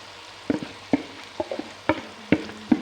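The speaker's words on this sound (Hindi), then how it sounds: "अब हम ये भिंडी डाल देंगे जो हमने फ्राई की हुई थी" Fried okra (bhindi) being stirred into a browned gram-flour masala in a pan, giving a series of distinct scraping, clattering stir strokes with light frying sizzle between them, close and without talk.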